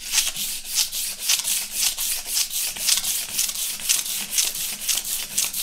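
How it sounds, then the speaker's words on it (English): 100 grit sandpaper on a heavy granite block is rubbed back and forth in a steady rhythm, loud and close, each stroke a bright gritty rasp. "So I just got a 100 grit sandpaper on here. And we're just running it back and forth."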